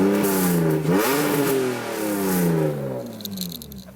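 A BMW E46's engine revs hard, climbing and falling in pitch through a couple of sustained pulls before settling, loud and close with no talk over it.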